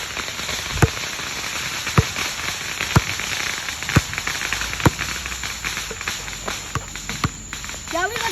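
Fireworks exploding outdoors: sharp, booming bursts that crack out roughly once a second, several in a row, over steady crowd and background noise.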